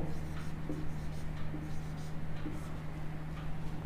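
Pen or marker writing out a maths solution for a sets exercise, faint scratchy strokes in short bursts over a steady low background hum, no voice.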